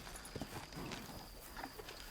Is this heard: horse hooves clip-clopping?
yes